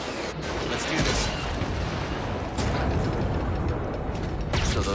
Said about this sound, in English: So those are the blasters.